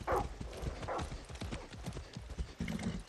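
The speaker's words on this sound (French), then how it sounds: "Ah si, attends, il y a un cheval." Horse hooves clip-clop in the Far Cry 6 video game, a brisk run of close, distinct hoofbeats with a couple of brighter snorting or whinny-like bursts, and no talk over them.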